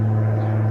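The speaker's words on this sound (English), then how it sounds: "excuse the noise, plane flying over." An airplane drones overhead, a loud, steady low engine hum with a strong tonal buzz that fills the whole short stretch, heard alone.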